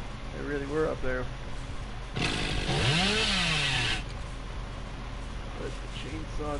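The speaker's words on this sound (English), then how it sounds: "Let the chainsaw go down." Chainsaw revving in a multiplayer survival horror video game, a loud rising-and-falling whine lasting about two seconds that swells up between stretches of speech.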